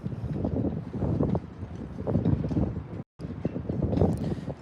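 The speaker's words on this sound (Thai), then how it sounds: "ลม ลมแรงมาก" Strong wind blowing outdoors in Wales, a loud continuous roar and buffeting against the microphone, with a brief dropout partway through and no talk.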